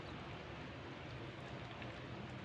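Steady rain falling outdoors, a soft continuous patter and hiss, fairly faint and even for a few seconds with no talking.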